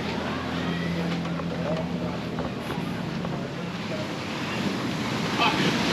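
Steady surf and gusty wind roar at Kamala Beach in Phuket, the waves washing continuously while wind buffets the microphone, with faint distant voices underneath.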